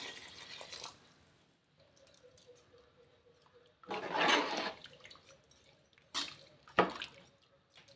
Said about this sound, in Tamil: இப்போ இந்த ரைஸுக்கு தேவையான அளவு சுடு தண்ணி ஆட் பண்ணிக்கோங்க